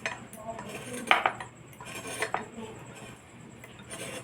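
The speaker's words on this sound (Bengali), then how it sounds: "প্রথমে আমি কচুরলতিটাকে ছাড়িয়ে পিস পিস করে কেটে নিচ্ছি।" Quiet scraping and a few sharp metallic clinks as taro stolons (kochur loti) are cut into pieces on a boti blade in a home kitchen, with soft intermittent knocks and no talking.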